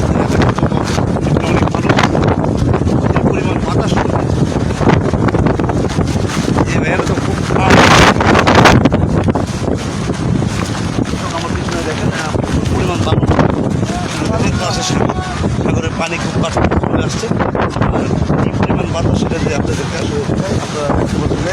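Strong gusting wind from Cyclone Remal at Cox's Bazar buffets the microphone in a loud, continuous roar, with a voice talking beneath it.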